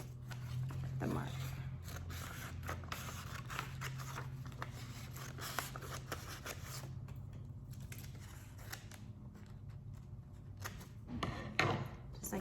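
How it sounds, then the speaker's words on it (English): Scissors snipping a shape out of a marked paper page, steady close cuts continuing throughout with a low hum underneath. "I'm going to cut a shape from this page that includes"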